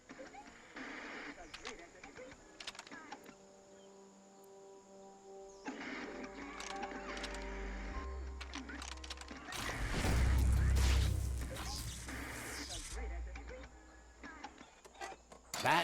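Mechanical clicks and ratchety ticking from loosening bolts in the Biomutant video game, layered with game music and effects, rising to a louder rumbling stretch midway.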